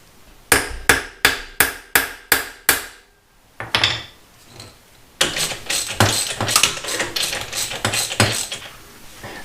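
Sharp metallic hammer strikes ring out as a bolt extractor is driven into a stripped Allen head bolt on a motorcycle exhaust, a quick run of about six evenly spaced blows, then a pause and a denser burst of rapid clanking hits.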